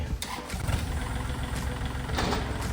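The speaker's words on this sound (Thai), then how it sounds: "เครื่องยนต์ติดง่ายนะครับ" An L4018 tractor's diesel engine cranks and catches, then settles into a loud, rumbling idle close by.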